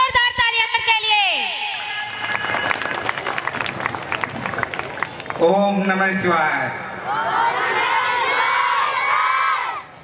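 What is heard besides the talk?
audience applause and cheering at school annual function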